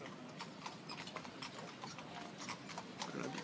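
Horses' hooves clip-clop steadily on a cobblestone street beside an outdoor dining spot, a brisk run of close, crisp knocks over busy street ambience.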